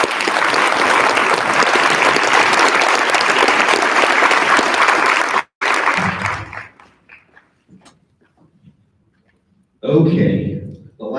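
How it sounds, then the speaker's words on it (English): An audience at an eighth-grade academic recognition ceremony claps loudly and steadily for the students, then the applause breaks off abruptly and gives way to scattered quiet sounds before a short burst of noise near the end. "please, let's have another round of applause."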